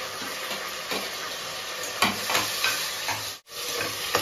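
Tomatoes and green chillies fry with onions in a pan, giving a steady close sizzle broken by brief scraping stirs and one short pause near the end.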